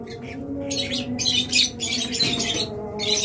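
A pair of blue-wing lovebirds gives sharp, repeated squawking chirps in quick bursts, close by, over a low steady background hum.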